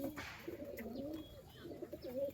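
Several pigeons coo in low, rolling calls at a home loft, a steady layered murmur of throaty phrases running through the whole stretch, close and moderately loud with no talk.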